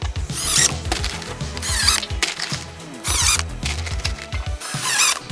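A power drill drives screws into cedar fence picket planter sides in a run of short whirring bursts with brief pauses between them, nearby and fairly loud.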